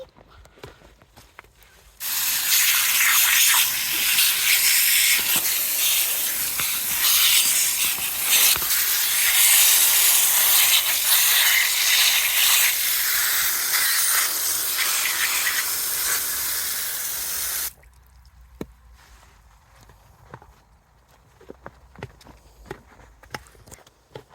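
Strong steady rush of running water from a barn tap as hands covered in grain and molasses are rinsed, loud and continuous for about fifteen seconds, then cutting off to faint clicks and handling noises.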